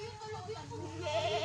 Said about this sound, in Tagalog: naghahanap na yung mga kambing, oh.